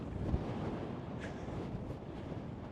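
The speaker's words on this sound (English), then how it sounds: "Wind's getting up a bit." Wind on a seaside hill at Middle Hope, blowing steadily into the microphone as a constant broadband rumble and hiss with no pauses.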